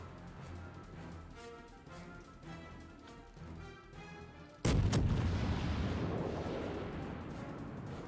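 A heavy battleship salvo strikes the player's ship in the naval game World of Warships, a sudden loud booming impact about halfway through followed by a long rumbling roar, after a stretch of steady engine and ambient battle noise.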